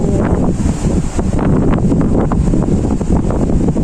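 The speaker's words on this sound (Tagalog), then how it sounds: "Pakahangin." Strong wind in Israel roars and buffets the microphone continuously on a cold, dark-clouded day, loud and gusting throughout with a broad rushing texture.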